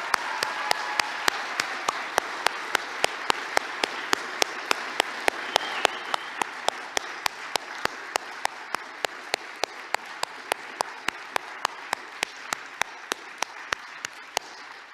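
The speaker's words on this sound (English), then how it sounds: "Let's show her with a strong applause how much we love the Virgin Mary." Strong, sustained applause from a church audience, with one loud nearby clapper beating a fast, even rhythm over the fuller crowd clapping for the whole stretch, no talk.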